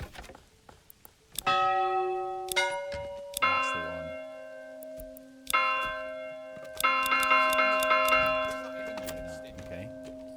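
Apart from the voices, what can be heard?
church bell ringing in Manor Lords video game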